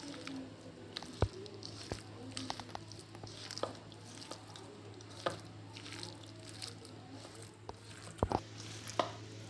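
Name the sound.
mixing soybean and egg mixture with oats by hand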